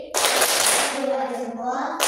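Children playing the thumb-clapping game tepuk jempol in a classroom, a burst of many hands clapping together with chanting voices over it, then a short pause before more clapping.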